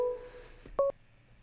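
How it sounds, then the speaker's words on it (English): A telephone line ringing on an incoming call, a short electronic tone burst after a brief click, heard alone and fairly quiet. "The line's ringing."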